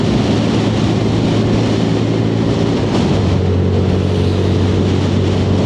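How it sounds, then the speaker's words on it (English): A strong crosswind buffets the microphone during a ride on a Lexmoto Assault 125cc motorbike, making a loud, constant roar that blends with the engine drone and a steady low hum, with no talking. "Oh, look at that wind. It is blowing a good one."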